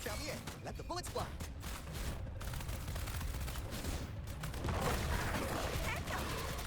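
Rapid gunfire from a ranged character in the video game Wuthering Waves crackles in dense bursts through the whole stretch, mixed with game effects, while a character's voice speaks briefly.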